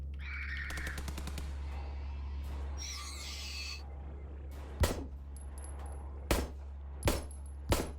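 Gunshots fire in the horror video game Signalis: four sharp, loud reports spaced about a second apart, preceded by clanking, rattling game sounds over a steady low hum.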